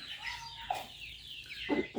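Young male fighting-breed rooster clucking nearby, two or three short abrupt clucks spaced across a brief moment over quiet background, with no talk.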